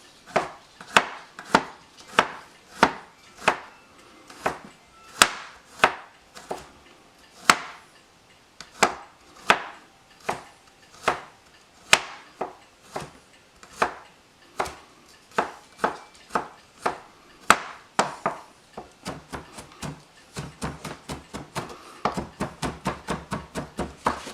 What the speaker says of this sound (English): then I chop it into little smaller pieces